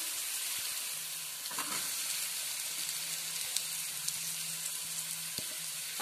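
Chopped onion frying in a pan for chicken patisapta gives a steady, even sizzle, close and continuous, with a few light clicks on top.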